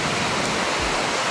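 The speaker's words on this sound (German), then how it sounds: "hier ist ein riesiger Wasserfall da hinter mir" A huge waterfall in Patterson Park roars as a steady, dense broadband rush of falling water, continuous and loud throughout with no voices.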